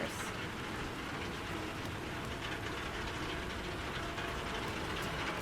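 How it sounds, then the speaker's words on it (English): Steady rain patters and rattles continuously in the Alan Wake 2 game world, a dense, even wash of droplets at moderate level with no pauses or voices on top. "Oh, the rattling is just the rain."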